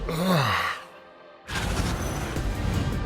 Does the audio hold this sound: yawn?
yes